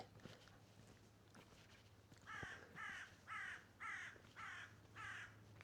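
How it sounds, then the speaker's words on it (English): A crow gives six loud, evenly spaced caws close by on the Undercliff path down to Monks Bay, Bonchurch, on the Isle of Wight at Christmas, above a faint steady hum and quiet background. "What species of crow was that?"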